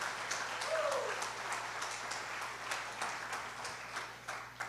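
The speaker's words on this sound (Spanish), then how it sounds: "Oh, dale un aplauso fuerte a Jesús de Nazaret" A church congregation claps during a Spanish-language sermon, a faint, sparse patter of hands with distinct individual claps under a low steady hum, somewhat distant.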